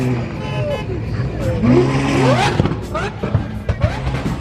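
Supercars rev their engines at a street takeover on a Mexico highway, loud overlapping roars and rising revs with tire squeal, close and continuous, with people talking over them.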